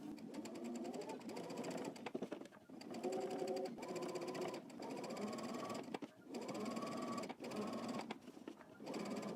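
A sewing machine stitches a seam on a Simplicity S9597 garment near a back yoke, giving a close, busy mechanical whir in several runs separated by short pauses, with no talk.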